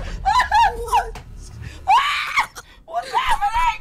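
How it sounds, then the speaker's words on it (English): A person screams loudly in three shrill bursts while playing Rainbow Six Siege, with breathy laughter and gasps between the cries, close to the microphone. "Sorry for screaming."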